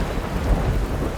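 Cartoon thunder and rain effect: a deep, rumbling roll of thunder over a steady hiss of rainfall, loud and continuous through a brief moment with no voices.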